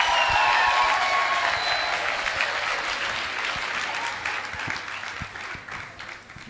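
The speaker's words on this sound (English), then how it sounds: "Just another round of applause for our Eswatini's traditional dancers." Applause from an audience at an anniversary celebration at Waterford Kamhlaba, honouring Eswatini traditional dancers, sustained and steady throughout and slowly fading toward the end.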